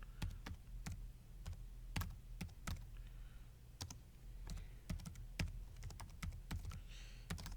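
Computer keyboard typing, a steady run of crisp key clacks, some bunched into fast bursts and others spaced out, heard close up over a low background hum, no talking.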